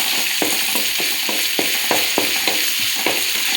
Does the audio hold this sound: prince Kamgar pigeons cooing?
no